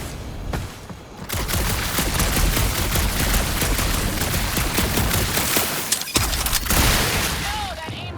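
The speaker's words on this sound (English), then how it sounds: "that aimless shooting isn't gonna scare the monsters away" Rapid gunfire in the Guardians of the Galaxy video game on PS5, a sustained dense fusillade of loud shots with booms, briefly pausing then resuming, with game voices talking at moments.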